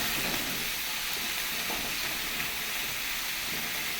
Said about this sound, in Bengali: চলো এঁচোড়টা ভেজে নিই।